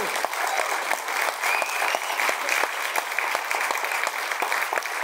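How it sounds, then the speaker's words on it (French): A concert audience applauds an orchestra pianist at a winter Slavic-music duo recital, sustained clapping with sharp individual hand claps audible throughout five seconds, fairly close and steady. "sous vos applaudissements, orchestre Anna Jbanova."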